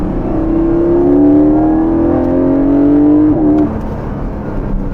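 A Porsche 718 Cayman engine in sport mode accelerates hard from inside the cabin, a loud rising drone climbing through the revs before easing off with a short gearshift dip.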